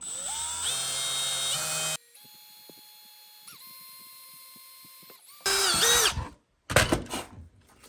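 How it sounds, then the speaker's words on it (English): A power drill whirs in short bursts while drilling a pilot hole, its motor pitch rising and falling, with a quieter steady hum between the louder runs; close and loud. "I'm just going to drill a little pilot hole first"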